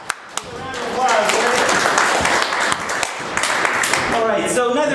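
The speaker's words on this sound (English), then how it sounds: "Round of applause." An audience at a live improv comedy show breaks into applause, a few scattered claps building into sustained, dense clapping from a crowd, with voices talking over it.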